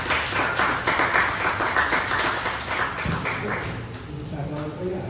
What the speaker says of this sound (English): please give them up and clap for them.